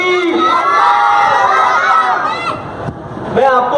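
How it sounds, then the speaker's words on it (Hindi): A crowd of children at an Islamic quiz held at a wedding loudly shouts back in unison in answer to the Naara-e-Takbeer chant, a sustained, close, voiced roar that dips briefly and swells again. "बाकायदा प्रोग्राम का आगाज करते हैं एक बार नारे के साथ। नाराए तकबीर।"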